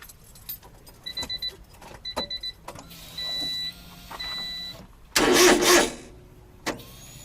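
A Honda Beat kei sports car with a newly installed fuel pump cranks repeatedly, giving short rhythmic starter whirs. A longer buzzing whine follows, then a loud burst as the engine tries to catch, heard up close with no talking.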